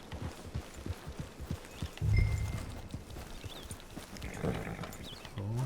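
Horse hooves clip-clop in the Red Dead Online game as a horse walks toward a camp, a steady rhythmic plodding with a heavier thud partway through, moderately near.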